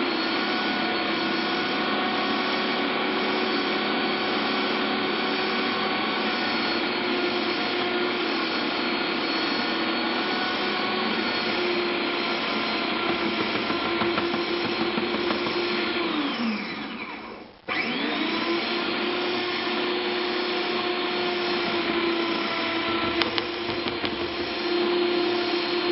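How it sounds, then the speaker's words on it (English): A small Hamilton Beach food processor runs continuously, grinding cabbage for sauerkraut: a loud, steady motor whine with churning, briefly cutting out and dropping in pitch before starting again. "I have a very simple Hamilton Beach food processor."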